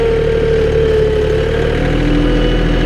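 A John Deere 4105 compact utility tractor's engine working under load, with its turbo spooling. It is a loud, steady, close drone with a constant whine running through it and no voices.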